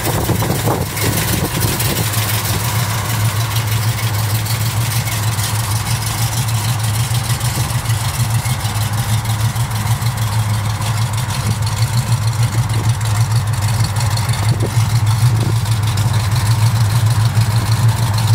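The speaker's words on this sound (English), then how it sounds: "Has a nice lope to the idle." A 1969 Chevy Camaro SS with a big-block 396 V8 idles steadily up close, its deep, loping burble running continuously with no voices.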